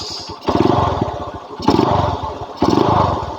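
Loud, bassy bored-out aftermarket exhaust on a 150cc Yamaha Mega Pro-style motorcycle burbling at idle, briefly revved three times in quick surges before settling back.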